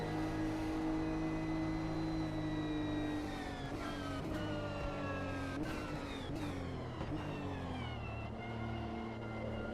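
Racing car engines roar in Automobilista 2 during a drag race at Fuji Speedway between a GR Supra GT and a Jaguar, with steady high revving, rising and falling pitch through gear shifts, continuous and without talk.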